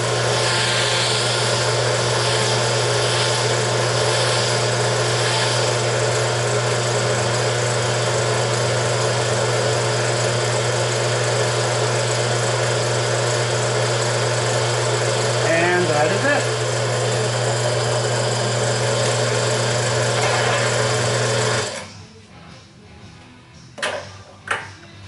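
A 250E filtration machine running at 30 PSI gives a steady, loud mechanical hum with a constant low drone for about twenty seconds, then cuts out abruptly, leaving quiet clicks and handling noises.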